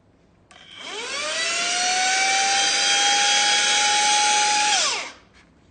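A smart vacuum cleaner motor in power mode spins up to 50,000 RPM with a rising whine, holds a loud, steady high-pitched scream for several seconds, then winds down quickly to near silence.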